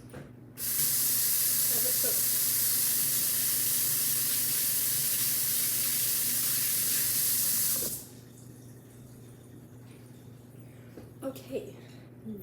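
Tap water runs steadily into a kitchen sink for hand washing while cookies are being baked, a loud continuous hiss for about seven seconds that cuts off abruptly, followed by quiet room noise and a few faint clicks.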